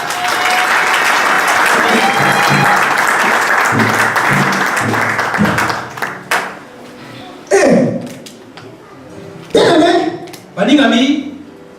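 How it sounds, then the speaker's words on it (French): A congregation at an evangelical church service applauds loudly and continuously for several seconds, then the clapping fades into scattered taps and bursts of voices and cheering. "Acclamons pour le Seigneur"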